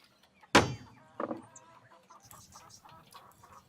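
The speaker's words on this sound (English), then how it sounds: "It's one chicken, mate." A single chicken clucks loudly in a sharp burst, then gives a second softer cluck, with quieter fowl chatter trailing off into the background.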